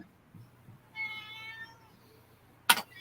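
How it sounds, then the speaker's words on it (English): A house cat gives a single drawn-out meow at moderate distance over a quiet room, followed moments later by a brief sharp noise. "Oh, who's meowing?"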